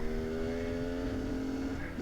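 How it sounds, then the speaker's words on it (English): A dirt bike engine warming up while riding along a dirt road toward a trail, a steady, droning hum holding a fairly constant pitch at moderate loudness, with slight variation toward the end. "You can kind of hear the bike there is trying to warm up a little bit"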